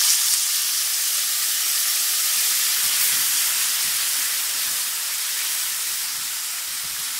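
Water poured into a hot pot of seasoned pilau rice base sends up a loud, steady hiss of steam and sizzling that holds for several seconds and then eases slightly.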